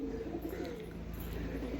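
Soft, low pigeon cooing under a steady background hum, faint and continuous for a brief moment.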